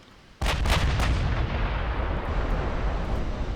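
Battleship turret gunfire in the naval combat game Ultimate Admiral: Dreadnoughts, a sudden loud blast of stern turret guns with a few rapid follow-up reports, then a long rumbling roar that trails off.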